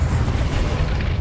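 A Confringo spell explosion in Hogwarts Legacy bursts out as a short, dense, booming blast that fills the moment loudly and alone.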